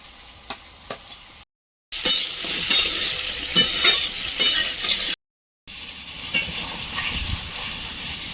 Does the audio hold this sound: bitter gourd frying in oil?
yes